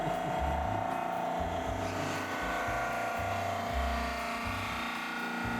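A motorized buffing wheel spins at about 1800 RPM, polishing a classical guitar fingerboard with Ruby Rouge compound. It makes a steady, loud mechanical whir with a pulsing low rumble throughout.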